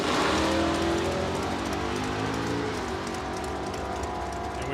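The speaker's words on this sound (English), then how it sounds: "And we've got a drag race on our hands, folks. Camaro versus Mustang." A Camaro and a Mustang roar side by side in a drag race at Saskatchewan International Raceway, a loud sustained engine drone that holds steady and fades slightly as the cars pull away.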